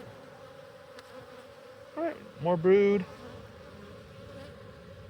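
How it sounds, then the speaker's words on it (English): Honey bees buzzing steadily around a hive during an inspection of brood frames, a close continuous hum under brief spoken remarks from a beekeeper. "Lots and lots of bees."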